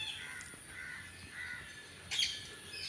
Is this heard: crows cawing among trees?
yes